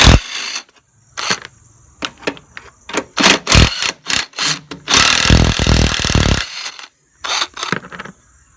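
A tool works loose the top strut mount bolts on a 2002 Honda Civic, with sharp metallic clicks and ratcheting bursts, then a sustained ratchet run of about a second and a half, all close up with no talk.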